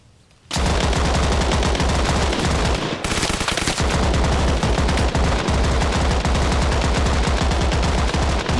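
Sustained automatic gunfire in the video game Arma Reforger, a loud, rapid stream of shots that starts abruptly, breaks off briefly, then resumes and keeps hammering steadily to the end, with no talking.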